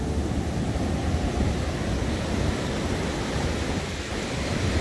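Strong wind buffets constantly with a rough, roaring rush at Leisure Bay, mixed with the wash of surf nearby; no voices.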